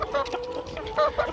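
Chickens cluck in short bursts at close range, several birds overlapping with a faint outdoor background.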